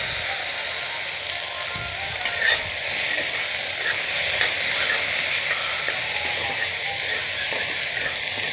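Oil heating in a pan with cumin seeds added gives a soft, continuous sizzle and crackle, with light utensil clinks and scrapes throughout and no talking.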